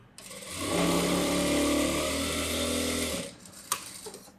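A sewing machine runs in one steady burst of stitching for about three seconds while a boat neck blouse is sewn, then stops, followed by a few faint handling clicks.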